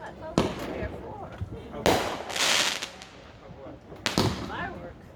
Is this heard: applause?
no